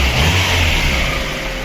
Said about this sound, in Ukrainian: Ось так працює наш моторчик.